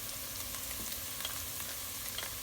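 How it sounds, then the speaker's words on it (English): Garlic frying with onions in a pan gives a faint, steady sizzle and crackle, close but quiet, with a few soft pops. The sound is brief and continuous, with no voices. "And fry off the garlic for about a minute."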